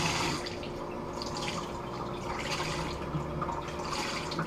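Running tap water pours steadily over an aquarium filter polishing pad from a Fluval 206 canister filter, a continuous close splashing rush with no speech.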